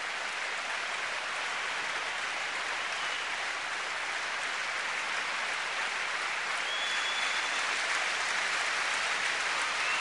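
A crowd at a ski event keeps up continuous cheering and applause as a dense, steady roar with a hiss like rain, heard from a distance over a full stretch of several seconds.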